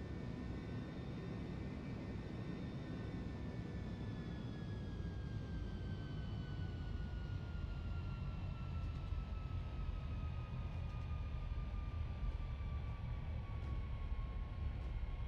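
Steady, loud jet engine roar from a Boeing 737-800 beginning its takeoff roll on the runway, a constant rumble with a slowly falling whine, with no voices over it.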